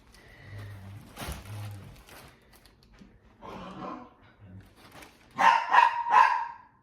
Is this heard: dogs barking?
yes